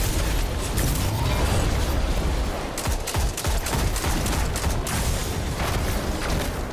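Rapid gunfire from Destiny 2, a dense, loud barrage of overlapping shots and booms that runs almost continuously, with no voices over it.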